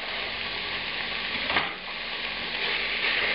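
Chopped onions for Senegalese and Ghanaian jollof rice fry in a hot pan over medium heat, giving a steady loud sizzle throughout with a brief stir or scrape midway and no talk.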